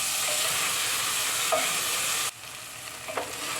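Onion, tomato and chopped small pepper frying on a stove for a chicken gizzard stew, a loud continuous sizzle that drops suddenly partway as more goes in, with faint utensil taps.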